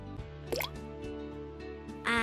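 A rock is dropped into water and sinks, giving a single close plop followed by a short watery splash, with faint background hum.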